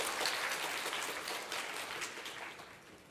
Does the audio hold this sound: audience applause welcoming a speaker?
yes